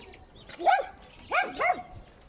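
Puppies let out three short, high, whiny yelps, one alone and then two in quick succession, close by against a quiet background.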